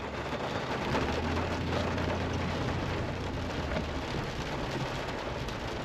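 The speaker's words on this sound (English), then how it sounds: "it's starting to rain a little bit" Continuous heavy rain pouring down, an even, close hiss of drops drumming on a surface throughout, with a faint low rumble beneath.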